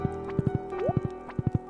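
A horse in Stardew Valley trots along with quick clip-clop hoofbeats in clusters of three, light and close, over soft game music.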